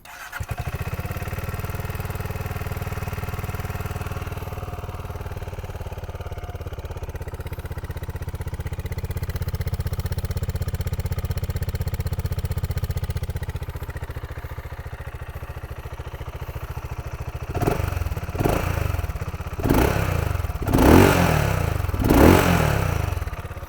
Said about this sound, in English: Now I'm going to start it up and give you a little listen.